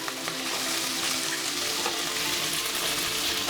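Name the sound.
dried red chillies and onions frying in a pan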